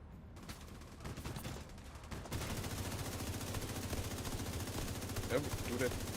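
Explosion and gunfire from a True Patriot attack in a shooter video game: a sudden blast followed by dense, continuous bursts of rapid fire at moderate loudness, with a voice speaking under it.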